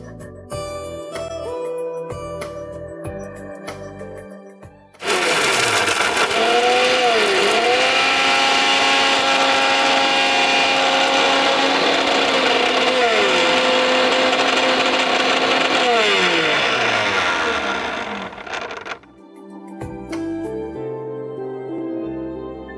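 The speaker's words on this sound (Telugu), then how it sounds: "దీన్ని మనం ఫస్ట్ మిక్సీ పట్టేసుకుందాం లైట్గా." A kitchen mixer grinder grinding sunflower seeds and almonds runs loud and close for about fourteen seconds, its motor whining steadily with brief pitch dips as the load shifts, with quieter kitchen sounds before and after.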